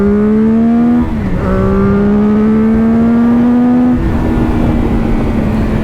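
A CF Moto 675SR-R motorcycle accelerates hard, its engine note climbing steadily through the gears with two quick shifts. The engine is loud and close, with no speech.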